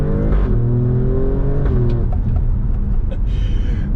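An Alfa Romeo Stelvio Quadrifoglio's twin-turbo engine pulls hard under acceleration, a loud rising roar with shifting tone and a brief gear change partway through.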